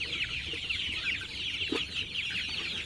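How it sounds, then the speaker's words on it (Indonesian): A flock of about 600 hungry chickens clucks and chatters continuously, a dense busy chorus of many birds close by, with no talking. "Ini kebetulan ayam saya sudah lapar, jadi saya mau tunjukkan ini pakan ini"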